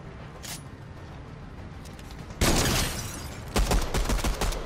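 Light machine gun fire in a first-person shooter video game: a long sustained burst opens loudly partway through, followed by a second rapid burst, with faint earlier shots and no talking.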